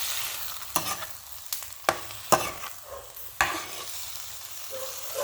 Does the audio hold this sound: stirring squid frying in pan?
yes